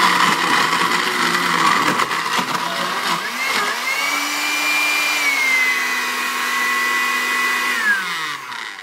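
A blender whirs as it makes a smoothie, first churning roughly with a choppy, uneven load, then settling into a steady high whine that holds and finally winds down near the end. No one speaks.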